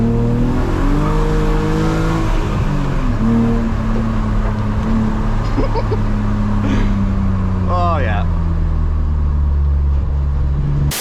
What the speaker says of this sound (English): buy an E36 compact, get a 6-pot engine, do an engine swap, weld the diff, done